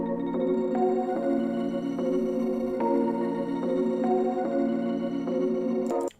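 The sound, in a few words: dark trap melody from an atmosphere synth preset in FL Studio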